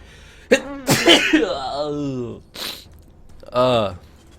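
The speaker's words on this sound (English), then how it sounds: "I actually have like an awful sneeze." A sharp intake of breath leads into a loud explosive sneeze, followed by a few vocal sounds and another short burst.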